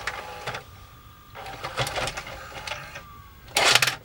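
An LG GC480W VCR tape mechanism running noisily, giving off intermittent whirring, clicking and grinding bursts of motor and gear noise with short quiet gaps, close by, the loudest bout at the end.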